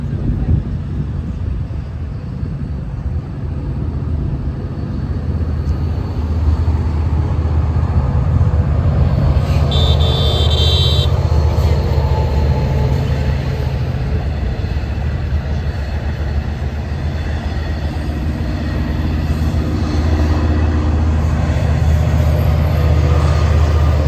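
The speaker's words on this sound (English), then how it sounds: "to see the train going back down the Central branch" A heavy LIRR commuter train on the Central branch rumbles past a road crossing at close range, a steady low roar with rattling that swells and holds for the whole stretch.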